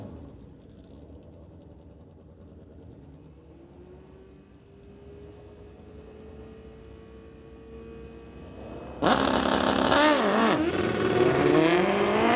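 A Suzuki Gixxer and a Kawasaki motorcycle idle at the line of a street-legal drag strip, then launch with a sudden loud, sustained high-revving roar that stays up close and intense, with no talk.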